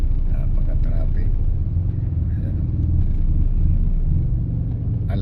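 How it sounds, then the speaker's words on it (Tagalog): Heavy, congested road traffic in Taguig at five in the afternoon, a constant low rumble of car engines close by that persists unbroken from start to finish. "Napaka-traffic."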